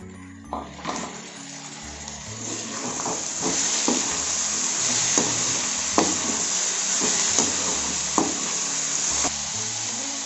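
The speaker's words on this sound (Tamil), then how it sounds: "இப்போ தக்காளி போட்டுக்கலாம்." Tomatoes and onions sizzle in a pan for an idli vadakari gravy, a steady frying hiss with periodic scrapes and knocks of a spoon stirring, close and fairly loud, no talk.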